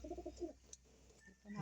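Racing pigeons coo softly in a loft, a few low rounded calls close by with quiet pauses between them.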